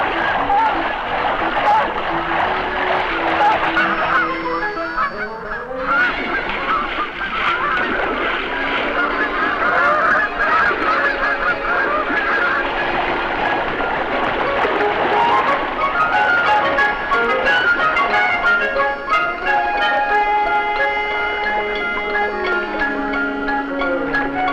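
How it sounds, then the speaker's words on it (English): Hybrid Canada goose and snow goose ganders honking around closely packed nests, with loud, harsh calls overlapping continuously under a narrating voice. "a really strange bird, a cross between a Canada goose and a snow goose"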